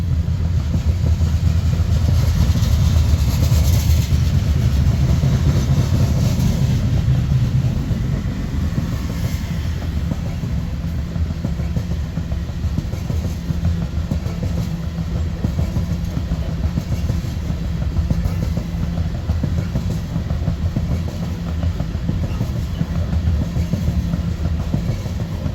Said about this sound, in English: this coal drag is now heading south to Kansas City